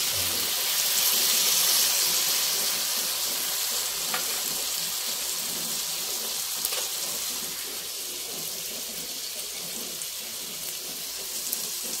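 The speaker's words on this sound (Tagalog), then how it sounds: "Magdagdag tayo ng soy sauce." Beefsteak sizzles steadily in a pan just after soy sauce is added, a bright continuous hiss with faint crackles and occasional small pops, no talk over it.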